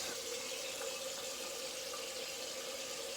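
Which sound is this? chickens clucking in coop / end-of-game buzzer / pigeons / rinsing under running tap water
rinsing under running tap water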